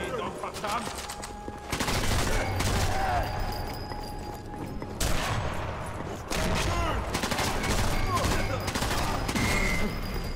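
Sustained machine gun fire rattles through a battle in the video game Sniper Elite 4, dense bursts with a few louder reports, and a voice talks over the gunfire at times.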